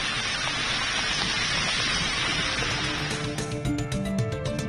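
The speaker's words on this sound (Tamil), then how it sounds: "தலைநகர் மும்பையில் நேற்று நள்ளிரவு பலத்த மழை கொட்டியது." Heavy night rain pours down in Mumbai as a dense, steady hiss of falling water, loud and unbroken, with some sharper splashing patter toward the end.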